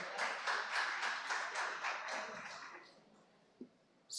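A small audience claps for a panel and its moderator at a tech pitch competition and showcase, a steady burst of hand claps for about three seconds that thins out and fades, with a faint tap near the end.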